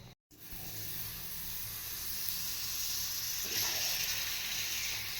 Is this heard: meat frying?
yes